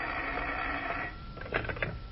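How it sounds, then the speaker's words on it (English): A telephone rings in an old-time radio detective drama, a short burst of ringing that follows a stretch of steady background hiss, with no voices over it. "And then the phone rang."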